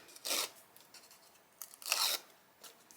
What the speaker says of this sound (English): Peel those off.